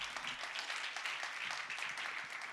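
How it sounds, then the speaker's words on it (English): Audience applause for a volunteer at a 2019 music event, a steady wash of clapping from a room full of people lasting the whole moment, moderately faint and without talk over it. "All right, round of applause for Ekaterina, please."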